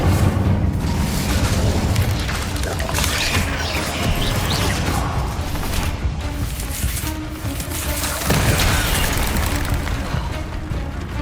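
Incendio fire spell cast in the Hogwarts Legacy video game, a loud continuous roaring blast of magical flame with booming, crackling bursts that swell again near the end.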